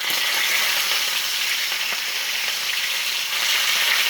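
Fish frying with onion in a pan gives a dense, steady, loud sizzle that continues evenly from start to finish, close up, with no voices.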